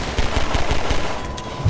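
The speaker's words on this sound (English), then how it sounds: "The pistol sounds amazing." Pistol fire in the video game Half-Life 2, a quick series of sharp gunshots in steady rhythm, loud and close, with no talk over it.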